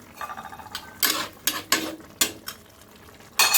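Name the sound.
fried lentil fritters added and stirred into vegetable curry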